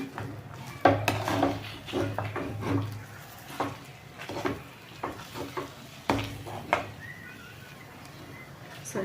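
A spoon stirs wheat halwa with a tablespoon of ghee in a pan, scraping and clinking in irregular bursts with a faint sizzle, close by and moderately loud, no talking.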